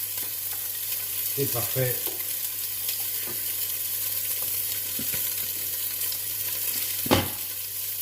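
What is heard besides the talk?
onion and garlic sizzling while browning in a pot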